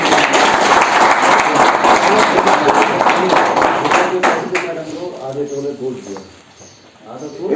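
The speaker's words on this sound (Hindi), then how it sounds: "जोरदार तालियां बजा दो" An audience at a motivational talk applauds loudly and steadily, a dense wash of clapping that thins and fades toward the end, with voices speaking over it.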